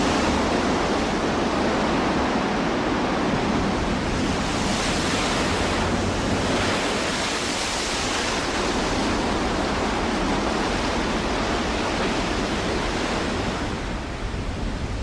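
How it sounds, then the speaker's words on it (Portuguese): Winter storm pounding a coastal bay, with a continuous loud roar of surf and wind that never lets up, waves crashing in broad surges throughout. "No limiar do inverno, outra tempestade castiga a Baía desse Cabo."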